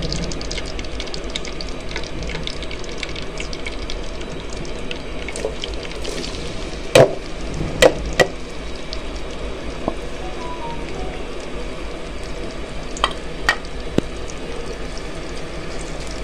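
Chopped onions frying in a cup of hot oil for chicken korma, a steady wet hiss like rain throughout, with a few sharp crackles and pops standing out midway.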